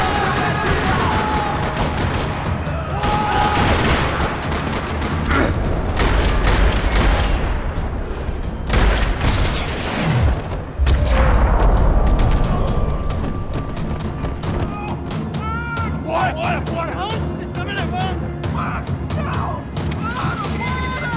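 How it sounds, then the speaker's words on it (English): Gunfire rattles across a parking lot in the Max Payne 3 video game. Repeated bursts of shots and booming crashes come loud and close, mixed with voices talking. "Another parking lot rattling with gunfire."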